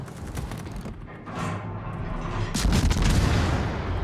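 Guns of the Elbing destroyer in World of Warships firing in heavy booming salvos, a rumbling blast that swells loud and close toward the end, no voices.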